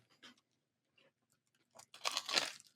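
A crunchy bite into buttered food topped with everything seasoning, heard close up as a few faint crackles followed by a louder crisp crunching burst at the end.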